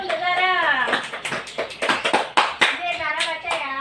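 A class of young pupils claps for a classmate in a school lesson, irregular hand claps mixed with children's voices chanting and talking over them.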